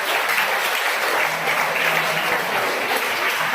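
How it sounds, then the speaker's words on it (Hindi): Dense, sustained applause from a crowd at a school felicitation ceremony at Khadija High School, Govalkot, Ratnagiri, as a guest is called up to present prizes: a thick, even roar of many hands clapping, loud and unbroken throughout. "बहुत जोरदार तालियां।"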